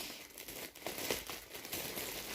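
Steady crinkling and rustling of a blue plastic bag being handled up close during an iPhone unboxing, continuous crackly texture throughout with no voices.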